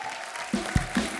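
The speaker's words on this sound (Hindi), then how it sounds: "आइए जोरदार तालियां हो जाए हमारे सारे फनकारों के लिए।" Studio audience applause on a comedy show, The Kapil Sharma Show, rising in short bursts with soft thumps after a quiet start, fairly close and moderate in level.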